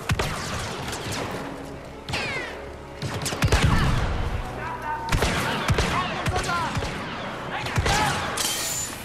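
Blaster fire from the Star Wars Battlefront 2 game as Han Solo, sharp repeated zaps and bursts over a busy battle soundscape, with a voice talking throughout.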